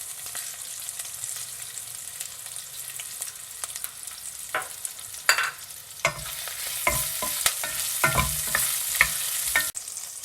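Ginger garlic paste and green chillies frying in hot oil for a spicy gongura pulao, a steady sizzle running throughout with occasional stirring scrapes and a louder, fuller hiss in the second half, close and with no talk.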